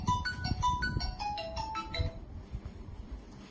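A phone ringtone plays a bright, repeating chiming melody for about two seconds, moderately loud over low background rumble, then fades into quiet room noise.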